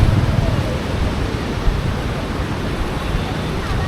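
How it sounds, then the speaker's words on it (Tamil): Water flowing at Iranaimadu tank in Kilinochchi, a steady broad rushing wash that stays loud and even throughout with wind buffeting the microphone, no voices. "இப்போ அமைதியாக தண்ணி ஓடிக்கொண்டிருக்கு"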